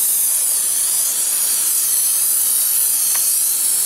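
Plasti Dip coating sprays from a can onto a Mazda Miata in a steady, close, unbroken hiss lasting a few seconds, with no talking.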